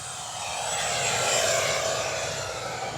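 A radio-controlled L-39 Albatros model jet with a 50mm ducted fan flies past, its steady whooshing whine swelling slightly as it passes and then holding on, loud and close, with no talking.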